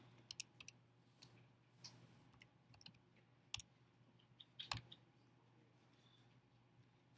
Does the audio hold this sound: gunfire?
no